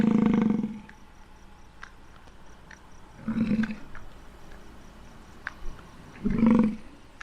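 Wild bison in a herd at Custer State Park grunt in three deep, rumbling bursts spaced a few seconds apart, fairly close, with quiet outdoor background between calls.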